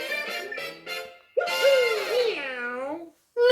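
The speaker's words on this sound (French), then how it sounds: "Le miaou de Mario, je trouve ça mais vraiment mignon" A high, cartoonish meow from Mario in Super Mario Maker 2 rings out, preceded by short chirpy voice sounds, with a brief pause before another sound starts.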